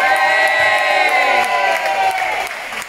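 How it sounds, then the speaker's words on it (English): Loud audience applause and cheering at a Tenerife entertainment show celebrating Frank McDougall's birthday: dense, continuous clapping mixed with whoops and shouts, holding steady before easing slightly near the end. "for which I think he deserves an even bigger round of applause"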